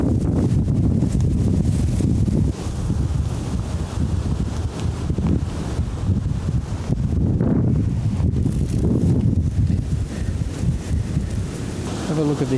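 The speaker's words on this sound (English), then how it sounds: "Have a look at this wind. The windiest I've ever experienced here." Strong wind buffets the microphone on the Murray River in South Australia under gum trees, a loud continuous roar with rustling and rising gusts.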